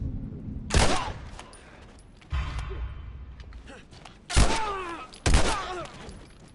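Gunfire in The Last of Us video game: three or four loud, sharp bursts spaced a second or two apart, each decaying into a rattling tail, over a low game background with no talk.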